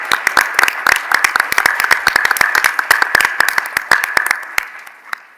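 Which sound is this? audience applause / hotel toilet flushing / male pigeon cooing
audience applause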